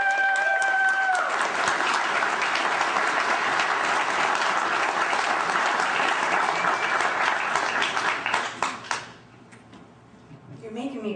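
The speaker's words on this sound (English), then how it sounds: "So please give a big round of applause for Catherine Bleish." An indoor audience at a New Hampshire talk applauds the introduced speaker Catherine Bleish, a loud, dense clapping that fills the room for about nine seconds before fading into quiet.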